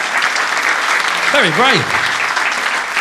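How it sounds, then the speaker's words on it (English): Audience applause at a comedy magic show, a steady, fairly loud wash of clapping throughout, with a voice briefly speaking over it midway. "I'll wait for the applause to die down"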